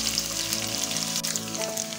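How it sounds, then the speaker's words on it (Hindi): Garlic and ginger paste fries with browned onions in hot oil, a dense, continuous close sizzle with faint crackles throughout, no voices. "अब इसमें लहसुन और अदरक का पेस्ट शामिल करेंगे। इसे भी फ्राई कर लेंगे"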